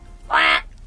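A single loud, close duck quack plays as a sound effect within a told story, a short buzzy call standing alone against near silence.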